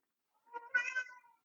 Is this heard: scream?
no